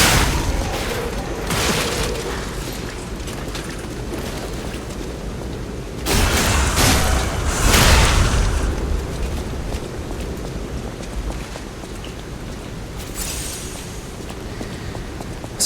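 Gunfire and explosions in the video game Lies of P, with heavy booming blasts bursting out around the middle and a sharp crack near the end over a constant rumbling background, no talking.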